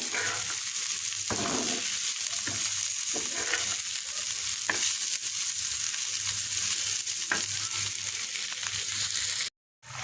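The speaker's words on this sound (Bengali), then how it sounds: "এদিকে করলা ভাজি করে নিচ্ছি" A steady, close sizzle of bitter gourd frying in a pan fills the whole stretch, with occasional stirring scrapes, cutting out briefly near the end.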